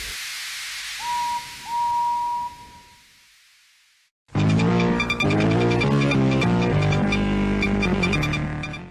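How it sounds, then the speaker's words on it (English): A cartoon steam engine lets out a loud hiss of steam with two short whistle tones, then falls silent before loud music starts. "Only Elmira could let out steam loudly."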